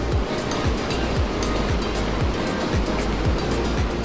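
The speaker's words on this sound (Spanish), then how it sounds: "los acompañan el ruido de esas cascadas y sus hermosas grandes rocas" Rushing water from the waterfalls among large rocks at Gaylord Rockies Resort, a steady broadband roar with a low rhythmic rumble running throughout, no voices.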